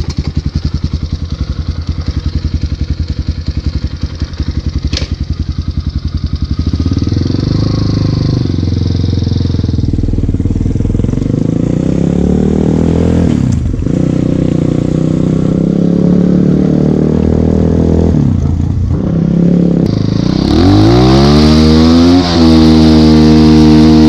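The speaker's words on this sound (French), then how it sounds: "Là on va faire un petit tour en moto." A motorcycle engine idles with a rapid putter, then revs and pulls away, rising and falling through the gears as it rides along, loud and close.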